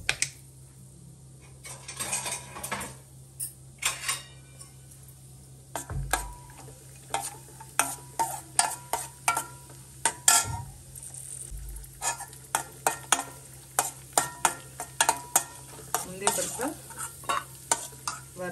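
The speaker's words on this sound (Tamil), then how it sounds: "ஊற்றிட்டு இதில் வந்து நம்ம முந்திரி பருப்பை போட்டு வறுத்து எடுத்துக்கலாம்." Cashews roasting in coconut oil in a pan, a soft low sizzle broken by repeated sharp scraping and clicking strokes of a spatula stirring the nuts, close and rhythmic, no voices.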